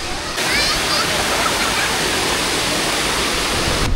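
Batlag Falls in Tanay, Rizal, a close, steady roar of falling and rushing water that fills the scene, with faint voices in the background.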